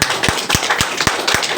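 Rhythmic audience clapping at a company leader's gathering, with sharp, evenly spaced claps about every quarter second over a steady wash of scattered hand claps.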